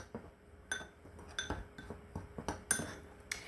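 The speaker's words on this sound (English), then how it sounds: "I'm just going to give those a little stir here in my bowl" Ground cinnamon, nutmeg and ginger are stirred in a bowl with a metal utensil, giving a series of light, sharp clinks and scrapes at an uneven rhythm, close and fairly quiet.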